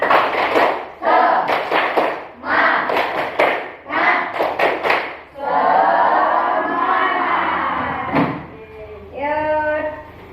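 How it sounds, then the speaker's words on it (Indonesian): A sixth-grade class in Indonesia claps in short rhythmic bursts while chanting a spirit-clap chant together, then a voice speaks with a few loud taps. "Yuk, sebelum diakhiri tepuk semangat dulu. Tepuk semangat."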